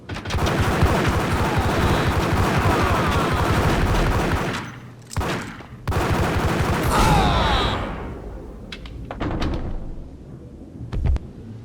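Gunfire erupts in the Max Payne video game, a dense, loud burst of rapid shots lasting several seconds, then a pause followed by scattered single shots, clanks and a final sharp report.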